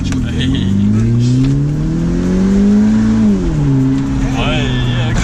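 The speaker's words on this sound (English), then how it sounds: "So when you put your foot down, it like drops to the highest revs." A modified BMW 1 Series 120i E88 with a quad-pipe back box delete revs hard close by, its pitch climbing steadily and then dropping as the throttle eases, over a constant road roar.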